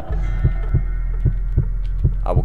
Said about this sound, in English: Calm yourself. Calm your heartbeat.